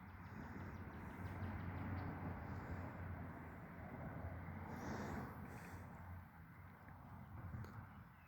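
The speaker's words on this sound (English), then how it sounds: "The train noise is going." Low, steady rumble of a passing train, heard faintly at a distance with a broad, sustained roar that swells and eases slightly.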